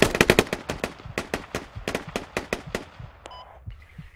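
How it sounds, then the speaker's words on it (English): Rapid gunfire in the military shooter Squad: a close burst of about a dozen sharp cracking shots in uneven rhythm, thinning out and ending with a few scattered distant reports. "There's a lot of gunshots there."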